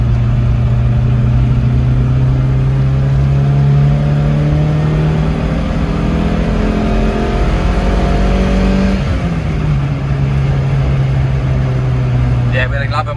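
Classic Fiat Panda engine revving steadily at the Nürburgring, a loud continuous in-cabin drone with a rising pitch that drops briefly around a gear change before climbing again.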